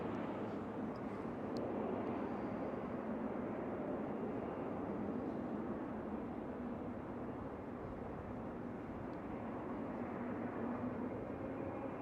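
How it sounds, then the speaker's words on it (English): Qatar Airways Boeing 777 jet airliner at Schiphol Airport, a steady, distant engine roar and rumble that holds evenly throughout, with no talking. "The Qatar Airways 777."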